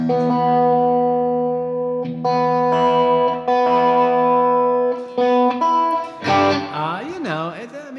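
Sustained electric guitar chords ring through a heavy Boss digital effects pedal, with distortion and warbling, pitch-bending tones toward the end.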